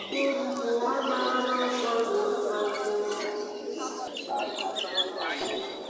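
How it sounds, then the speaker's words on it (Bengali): Caged birds at a pigeon market in Nayabati, Khulna chirp and call in quick, close tweets that overlap, mixed with bustling market noise and a clucking hen. "এখানে খাঁচায় দুটো পাখি দেখতে পারছি"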